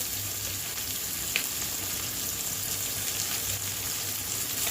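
Sliced onions and green chillies fry in oil with a soft, even sizzle and hiss that stays fairly faint throughout, with one small clink partway and no talking.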